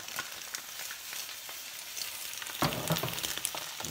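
An omelet frying in a hot pan gives a steady soft sizzle that swells louder and crackles more toward the end, heard alone without speech.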